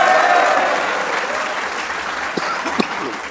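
A TV studio audience claps for Shaheen, a steady dense wash of applause that slowly thins, with a couple of sharper claps standing out near the end.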